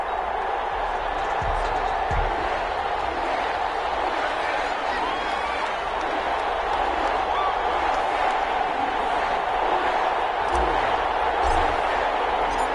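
Stadium crowd noise from an EA Sports football video game, Chicago Bears versus New Orleans Saints, a steady dense roar of murmuring and cheering throughout, with a few faint thumps and a commentator's voice over it.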